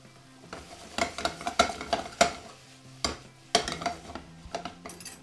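Pasta tossed in a pan of chipotle garlic seasoned sauce, repeated bursts of spoon scraping and clinking against the pan over a soft sizzle, close and fairly loud.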